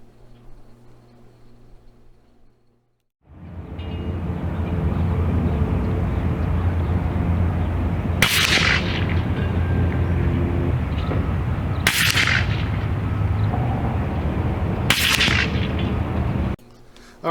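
AEA Element Max .45 air rifle firing 143 grain round balls, three sharp loud cracks spaced a few seconds apart over a steady background hiss outdoors, no talking.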